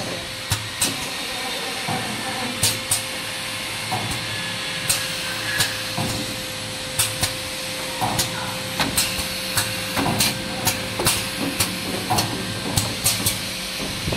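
An automatic CTO carbon block filter assembly machine with netting and capping starts up, giving a steady hissing, humming mechanical drone broken by repeated sharp clanks and clicks at an uneven, busy pace.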